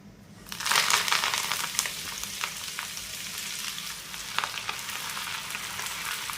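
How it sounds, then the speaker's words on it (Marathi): Roselle leaves sauté in a little oil in a pan, a steady crackling sizzle that swells after a quiet start and holds at a loud level with occasional sharper pops. "आपल्याला ही जी पानं आहेत ती छान अशी परतवून घ्यायची आहे"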